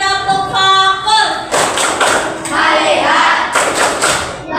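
A classroom of students performs a rhythmic focus clap, a few quick bursts of claps in a short pattern, then a pause and another burst, over steady chatter and children's voices.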